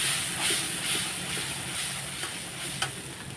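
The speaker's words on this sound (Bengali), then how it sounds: "দেখো এখনও কষানো হচ্ছে" Pomfret fish masala spiced with turmeric, Kashmiri chilli powder and salt sizzles and hisses in hot oil while being stirred and fried, a steady frying crackle with occasional scraping strokes and no talk.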